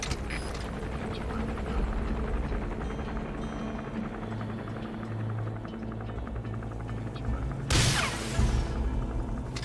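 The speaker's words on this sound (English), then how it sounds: "That's an enemy gunship." An enemy gunship helicopter in the Metal Gear Solid V video game, a steady low rotor hum and buzz at moderate distance, with a sharp whooshing burst near the end.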